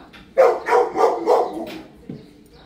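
A dog nearby gives a quick run of four or five loud barks, then a softer single yip, close and prominent in a quiet setting.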